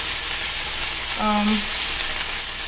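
Veal frying in a pan, a steady broadband sizzle throughout with a brief tonal scrape or squeak partway through, close and moderately loud, no talking.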